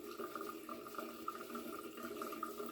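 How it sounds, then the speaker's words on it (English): Faint water running from a tap during shaving lather preparation, a soft steady trickle heard alone for a few seconds. "Bit of water."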